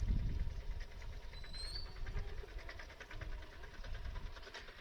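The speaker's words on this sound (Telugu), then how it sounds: "ఇప్పుడు ట్రైన్ వెళ్ళింది" A faint, distant train rumbles past a village railway level crossing, a low steady roll with light rhythmic clatter that never swells very loud.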